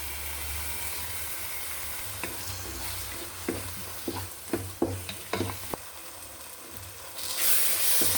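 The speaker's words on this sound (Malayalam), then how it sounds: "അതിലേക്ക് നമുക്ക് കാഷ്യൂനട്ട് അരച്ചത് ചേർക്കാം." Biryani masala with cashew paste being sautéed in a pan for spicy chicken biryani, a steady sizzle and hiss with a run of sharp spoon scrapes and stirring knocks near the middle.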